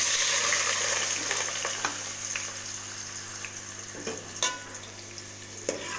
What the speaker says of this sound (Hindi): 2 अदद प्याज को हम फ्राई करेंगे।